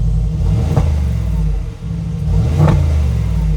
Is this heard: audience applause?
no